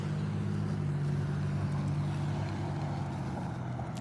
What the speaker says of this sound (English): That loud car over there.